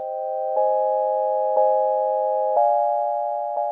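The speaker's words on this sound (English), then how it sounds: "I have a sine wave synthesizer" Pure, smooth sine wave synth tones from Ableton Live hold a steady chord, retriggered about once per second with small clicks at each change. Close and moderately loud, with nothing else heard.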